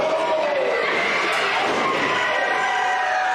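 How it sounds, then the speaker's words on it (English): A wrestling crowd at The Unconquered Cup chants and shouts in a steady, loud roar that fills the whole stretch, with voices blending into a continuous wash of noise. "I can't repeat what the crowd's saying, but you can hear it on IWTV"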